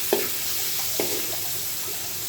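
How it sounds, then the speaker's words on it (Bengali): Hilsa fish pieces lightly frying in spiced oil in a pan, giving a steady close sizzling hiss broken by a couple of soft knocks. "মাছটা হালকা একটু ভেজে নিচ্ছি।"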